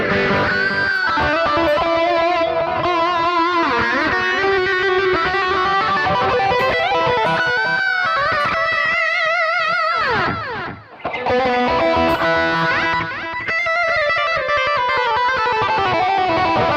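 Distorted electric guitar through a BOSS eBAND JS-10 phaser plays riffs and sustained chords with a sweeping, swirling modulation, loud and continuous, briefly dropping out midway.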